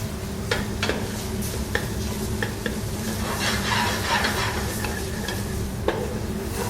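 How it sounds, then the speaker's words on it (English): Tomato paste cooks in a pan for lasagna, with a soft steady sizzle under repeated scraping strokes and clicks of a utensil against the pan, close and moderately loud, no talk. "And let's mix. Very important to cook it, the tomato paste."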